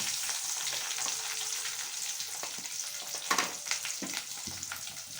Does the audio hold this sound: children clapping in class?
no